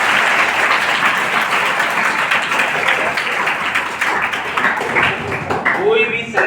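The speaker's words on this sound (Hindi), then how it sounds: "वेरी गुड, ताली बजाइए सारे लोग इनको।" A group of children applauding in a classroom, dense steady clapping that fills the whole stretch at close range and loud, easing slightly toward the end.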